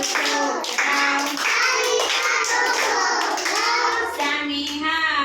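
Steady rhythmic hand clapping from a group of young Anganwadi preschoolers playing a clapping game, close and loud, mixed with their continuous sing-song chanting.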